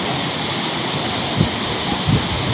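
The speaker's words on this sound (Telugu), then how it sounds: "ఆ కీలేశ్వరం కొండ ఒకటి ఉంటే కొండ దిగువన భాగాన వెళ్తే ఈ వాటర్ ఫాల్ కనబడుతుంది" Steady rushing water from a waterfall at the foot of Kileswaram hill near Kondapalli, by a large pond, a continuous broadband roar with a couple of low thumps, no voices.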